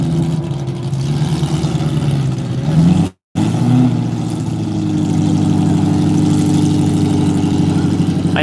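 A Camaro race car idles at the Texas Mile standing-mile event, its engine rumbling steadily and loud up close, with a brief dropout partway through and a slight rise in revs afterward.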